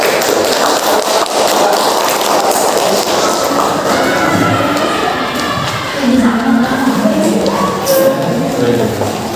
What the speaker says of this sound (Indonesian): Kasih tepuk tangan buat kelompok 4.